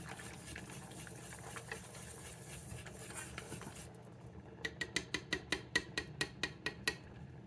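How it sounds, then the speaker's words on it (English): Rice congee at a full boil in a pot gives a steady bubbling hiss, then a run of sharp, evenly spaced popping bursts from thick bubbles, close and without speech. "It's at a full boil"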